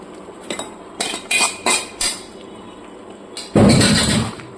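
Fried potatoes, soybean chunks and eggplant drop into a pan of cooked spices with a run of clattering metal clinks and knocks, then a louder burst of sizzling and scraping near the end.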